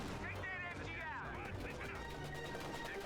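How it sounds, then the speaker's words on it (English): Machine-gun fire rattles in rapid bursts through the dense din of a WWII strategy video game battle, with continuous gunfire and scattered crashes layered over steady background noise. "They are being suppressed by the MG"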